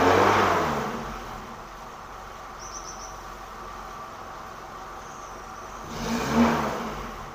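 Suzuki Katana engine, with and without a thermostat fitted: a steady idle hum throughout, with two swells of louder revving, one at the start and one near the end.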